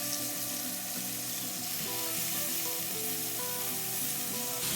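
Ordinary thin-cut bacon frying in a cast iron skillet on an induction cooktop, a loud, steady, dense sizzle that crackles continuously without pause.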